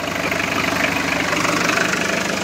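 An engine idles steadily after a restart, a continuous loud rumble with a slight knocking vibration throughout, no talking.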